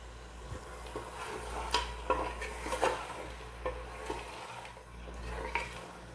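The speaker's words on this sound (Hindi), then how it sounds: "अब हम गोश्त को भूनेंगे जब तक हमारा गोश्त ब्राउन नहीं हो जाता।" Mutton pieces frying in a cup of oil inside a pressure cooker, stirred with repeated scraping and knocking against the metal pot over a steady low sizzle, with no talking.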